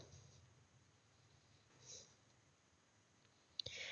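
A computer mouse clicks once on the calculate button of discount-pricing software: a single sharp, close tick near the end, with a faint second tap just after, over quiet low room hiss.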